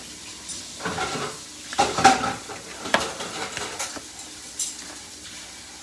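Boba tea ingredients smashed with a spoon in a cup, giving irregular clinks, scrapes and stirring taps at close range, with some louder knocks midway and no talk.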